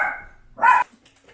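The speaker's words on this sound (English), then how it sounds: "The dog's gonna start barking." A pet dog indoors gives two short, loud barks close by, the first trailing off and the second sharper, with quiet after.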